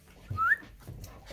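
A puppy whimpers once in a short, high, thin whine, fairly near and soft, among light household noise.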